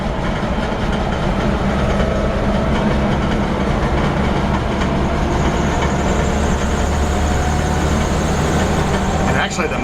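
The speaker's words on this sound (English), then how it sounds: "Actually, the motor sounds great." A 1959 Willys Wagon 4x4 engine running, a loud, steady, close rumble that continues unbroken for the whole stretch.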